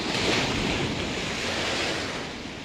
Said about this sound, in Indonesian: Ini berhubung angin kencang ya terus, sehingga ombak besar di perairan